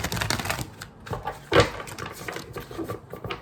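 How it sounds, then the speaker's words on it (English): Tarot cards shuffled by hand, giving quick papery riffles and soft slaps in a steady patter for a few seconds, close and fairly quiet, with one louder snap midway. "let me shuffle 5 times"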